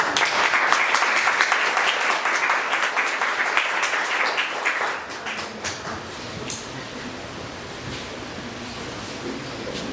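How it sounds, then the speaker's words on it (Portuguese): Seminar audience applause greeting a speaker, a dense wash of many hands clapping that is strong at first, then thins and dies out into scattered claps and room noise. "Vamos receber com uma salva de palmas o Rafael Bender."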